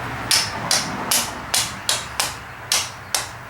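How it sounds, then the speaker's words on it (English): A small hammer taps an engine part into place on a Chinese ATV during a head gasket repair. Eight crisp, evenly spaced metallic knocks ring out close by, each with a short ring, and no talking. "you go ahead and grab a small hammer or the back of your screwdriver"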